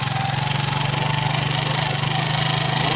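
A motorcycle engine runs steadily on a rough mountain road, a close, loud, even pulsing hum with broad road and wind noise around it.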